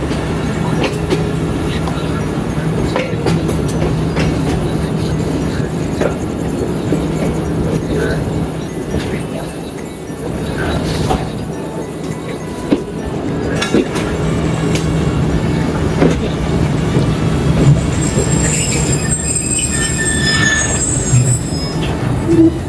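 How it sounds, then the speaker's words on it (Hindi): Rail noise as the Tezgam express runs the main line through Turki station in Pakistan: a loud, steady rumble of wheels with faint squeals and clatter throughout, no talking. "आने वाली रेलवे गाड़ी रावलपिंडी की queen 7 up Tezgam main line through है जी।"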